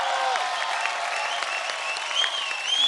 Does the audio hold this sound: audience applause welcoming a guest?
yes